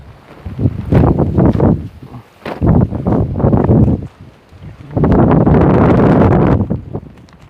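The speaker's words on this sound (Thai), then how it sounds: "โอ้ลมพี่น้องเลย" Strong hot wind buffets the microphone outdoors among dead trees in Laos, loud rumbling gusts that come in waves with short lulls between them.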